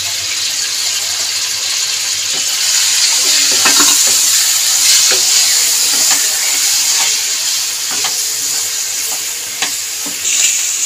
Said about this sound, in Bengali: নুন দিয়ে চিকেনটাকে ভেজে নিচ্ছি।